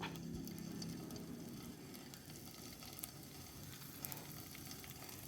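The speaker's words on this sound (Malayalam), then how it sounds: "ഇനി ഞാനിത് എണ്ണയ്ക്കകത്തിട്ടൊന്ന് ഫ്രൈ ചെയ്യുക." Paneer cubes fry in hot oil, giving a steady, close sizzle with faint crackle throughout and a few sharper pops near the end.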